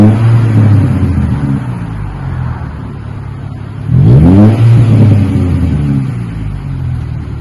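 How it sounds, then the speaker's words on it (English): A 2025 Lexus with its rear muffler removed idles with a low, mellow rumble, then revs sharply in one rising burst before settling back to a steady idle. It is close and fairly loud. "A little rumble before you step into it."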